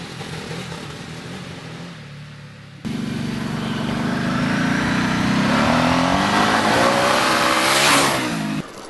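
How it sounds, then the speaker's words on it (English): Ducati Multistrada 1200 S motorcycle gassed on gravel and dirt, a sudden engine surge that swells into a rising, revving roar with tyre scrabble, loud and close, then cuts off abruptly. "you can gas it up and spin the rear up a bit more on gravel and dirt"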